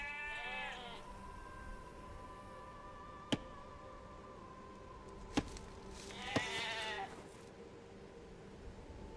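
Sheep bleat in the Age of Empires 2 video game, a few short wavering calls at the start and again near the end over a quiet game soundscape, punctuated by sharp clicks.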